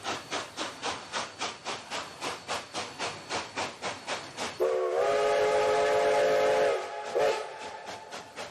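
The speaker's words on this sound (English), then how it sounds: "Peter Sam took the morning train very carefully over the mended piece of line" A steam locomotive chuffs in a steady rhythm, then a long loud whistle blows over the running train before the chuffing resumes.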